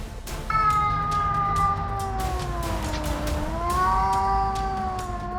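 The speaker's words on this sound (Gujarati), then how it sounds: "વાહ, આ બિલાડી છે." A cat giving one long, drawn-out meow, a loud, sustained wailing tone that bends slightly downward and back up over several seconds, close by with no talk.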